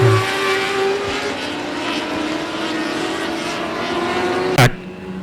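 Race cars at I-37 Speedway roar together toward a green-flag restart, a loud, steady, droning engine wash that holds level, with a sharp knock near the end.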